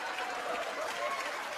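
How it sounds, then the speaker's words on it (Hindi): Sustained audience applause at a film awards show, dense and even crowd clapping filling the short moment with no talk. "इनके लिए भी जोरदार तालियां।"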